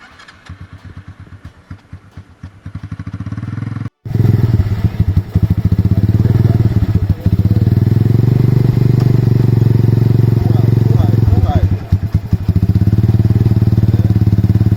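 A motorcycle engine at a riding lesson in Jamaica, first a rough low idle, then a sharp thump before the bike rumbles louder and revs steadily up close, with a brief dip near the end.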